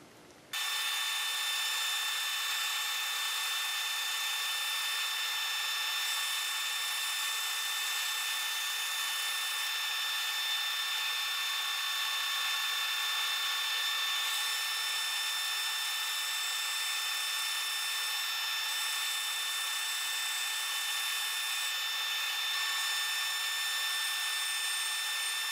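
Power saw cutting a scrap piece off a glued-up padauk and walnut disc to square it, a steady high-pitched whine held loud and continuous for the whole stretch with no talking.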